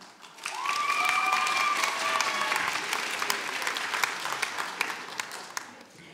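Audience at a local talent show breaking into applause, rising quickly to a full, sustained round of clapping with a brief whistle-like cheer near the start, then thinning out with individual claps at the end.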